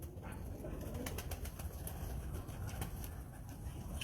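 Breeder pigeons coo softly in a quiet loft, low murmuring calls over a faint background hum with occasional light rustles.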